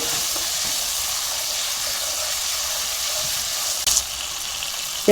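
Water poured onto fried garam masala in a hot pan sets off a loud, steady hiss of sizzle and steam that runs unbroken with no talk, with a brief clatter near the end.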